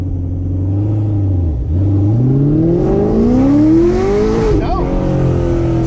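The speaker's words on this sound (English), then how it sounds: "Spinning wheels like crazy" A Chevrolet Camaro launches hard with its wheels spinning. The loud, close engine roar climbs steadily in pitch as it revs, then drops back briefly near the end.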